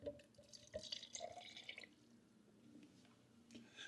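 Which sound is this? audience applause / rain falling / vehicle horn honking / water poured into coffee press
water poured into coffee press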